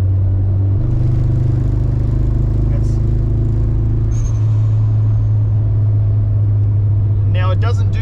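Mitsubishi Evolution IV engine running rough at around 2,900 to 3,000 rpm, a steady loud low drone with a shift in pitch partway through, and a brief faint voice near the end.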